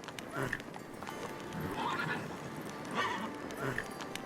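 Roach, Geralt's horse in The Witcher 3: Wild Hunt, clip-clops along near a cliff edge and lets out neighs and whinnies, while someone talks over the hooves.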